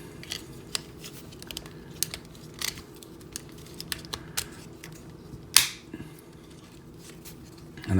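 The plastic legs of a Transformers Power of the Primes Deluxe Snarl figure are folded up, making a series of sharp, close clicks and snaps with one louder crack near the end.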